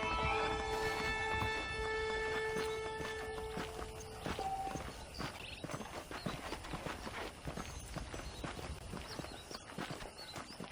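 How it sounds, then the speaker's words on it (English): Horses in the Red Dead Redemption video game clip-clop at a walk with steady, close hoofbeats, while a sustained musical tone fades out in the opening seconds. "The horses are saddled up over here."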